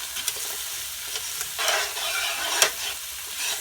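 Rice dish sautéing in a pan while being stirred, a steady close sizzle with scraping stir strokes and a few sharp clicks of the utensil against the pan, no talking.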